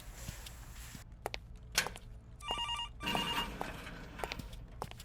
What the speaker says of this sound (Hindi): ये फ़ोन भी इसी टाइम पे बजना था।